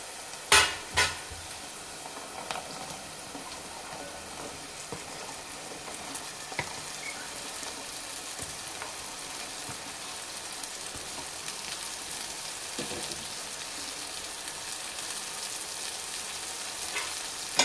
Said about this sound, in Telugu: ఇప్పుడు ఇందులోకి బెండకాయలు అయితే వేసేసుకుందాం